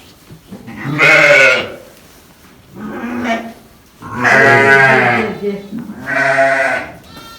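Sheep and goats bleating in a village barn, four loud, drawn-out calls close by, separated by brief pauses.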